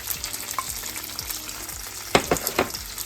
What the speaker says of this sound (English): So now I'm going to add this pepper, red pepper, already deep fried.